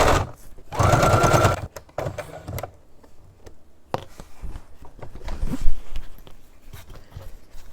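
A sewing machine stitches a patch onto an EDC pouch in bursts of rapid mechanical whirring, with short pauses and small clicks and handling noises between runs, close and loud.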